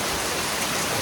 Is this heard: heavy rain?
yes